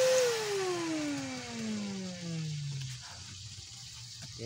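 A repaired household vacuum cleaner motor running down from a high whine, its pitch falling steadily over about three seconds before settling into a low residual hum, loud and close with no talk.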